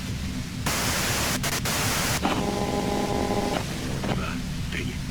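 Radio static hiss from the Disco Elysium game, a loud broadband white noise that starts suddenly and runs steadily, with brief crackles and a few tonal warbles over a low background drone.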